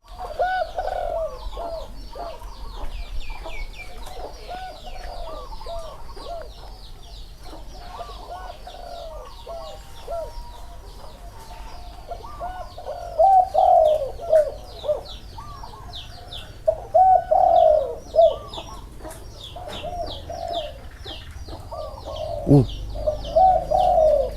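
Spotted doves coo repeatedly at a bird fancier's home, with soft low rhythmic coos and several louder nearby bursts among other bird chirps in the background.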